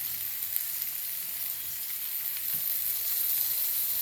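Oil sizzles in a hot pan while a prawn and raw jackfruit stir-fry cooks, a soft, even hiss and crackle that stays low and continuous without any voices.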